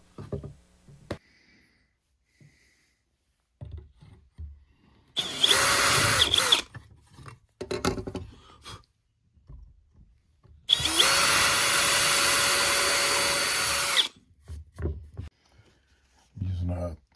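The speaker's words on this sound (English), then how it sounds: "I set this handy dandy little tool to drill this hole 3/4 of an inch from the edge of the board." Two bursts of power drilling into a wooden board with a 3/8 inch Forstner bit, the second longer, each a loud steady whine, with quiet handling noises and brief speech between them.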